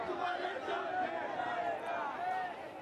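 Supporters of the Shinde faction cheer and shout together in a celebrating crowd, a dense, continuous roar of many voices rising and falling at moderate distance.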